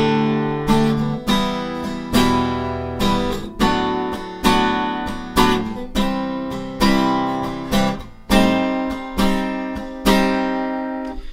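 Acoustic guitar strumming the bridge chord progression of a song from Mulan: steady, evenly spaced chords, one roughly every second, each ringing out before the next, played alone and up close.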